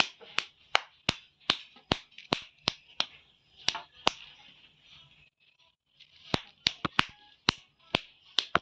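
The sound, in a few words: hand clapping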